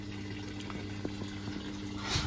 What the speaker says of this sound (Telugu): మనకి ఇంకా ఇది వాటర్ తీసుకుంటూ ఉంది